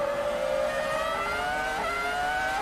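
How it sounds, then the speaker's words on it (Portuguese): Rubens Barrichello's Ferrari Formula 1 car accelerating at the Brazilian Grand Prix, a loud, continuous high-pitched engine whine climbing steadily in pitch as it pulls away, with no talk over it. "Agora aceleraram a câmera junto com o Rubinho, acelerando a Ferrari."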